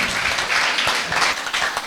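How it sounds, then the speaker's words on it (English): A school event audience applauds a student's parents with a dense burst of clapping from many hands, loud and close, filling the short moment without speech. "please give them a big round of applause"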